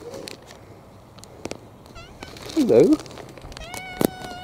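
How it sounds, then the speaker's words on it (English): A friendly cat in Scarborough gives one clear, close meow in the middle, surrounded by a person's soft greetings and other small handling noises. "Oh, friendly cat."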